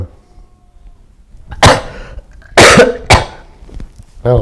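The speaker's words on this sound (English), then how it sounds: "Why I'm coughing." Three harsh, close coughs break out one after another from a person sitting through a live college football game, loud bursts separated by short pauses.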